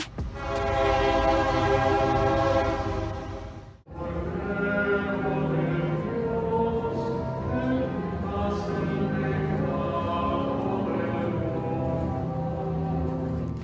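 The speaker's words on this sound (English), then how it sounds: "Let me introduce you to the Tren Suburbano in Mexico City." Tren Suburbano commuter train in Mexico City, a loud sustained horn blast with rich harmonic tones, a brief break, then a second long horn sounding over rumbling train noise.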